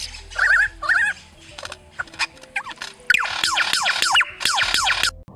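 A lyrebird mimics dog barking with a run of yips, whimpers and sharp bark-like calls, loud and close, coming in quick bursts that grow denser in the second half.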